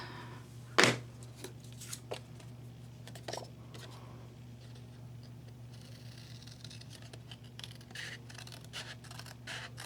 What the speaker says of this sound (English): this I'm just going to hand cut out